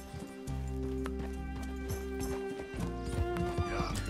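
A horse in the video game Red Dead Redemption 2 clip-clops along with a few steady hoof beats, heard fairly quietly beneath sustained game music.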